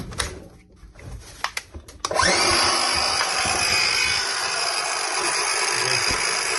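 A repaired Milwaukee HD18 cordless circular saw starts after a few faint knocks and handling sounds, then runs at a loud, steady high-pitched whine close by for several seconds, with no talking.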